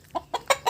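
A chicken clucks four times in quick succession, close and fairly loud, in short choppy bursts.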